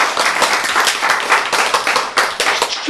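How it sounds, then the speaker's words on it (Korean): Audience at a church sermon claps in a steady, rhythmic beat, a close and fairly loud unison patter lasting throughout. "그래서 그 예, 박수 쳐요."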